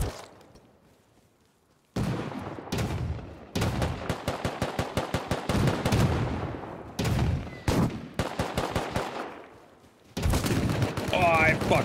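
Gunfire from a Rust video game firefight: rapid bursts of automatic shots in quick strings, with a loud volley cutting in after a brief silence and voices talking over parts of it.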